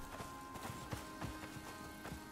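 Horse hooves clip-clopping at a steady trot in the survival game Icarus, a quick repeated rhythm of thuds at moderate distance with light game ambience and no talk over them.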